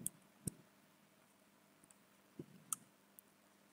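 A few sparse, quiet clicks from a computer keyboard as a command is typed into a Linux terminal on Windows, separated by pauses in an otherwise hushed room.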